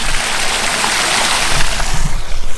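Water gushing out of a drain riser and falling toward a creek, a steady, close, rushing splash with a few burbling surges near the end.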